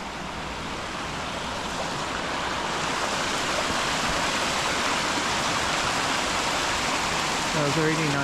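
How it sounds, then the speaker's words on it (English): A waterfall on a mountain walk at Cadair Idris, a constant broad rushing roar of falling water that stays steady and fairly loud throughout, heard from a distance. "There's a really nice looking waterfall up there"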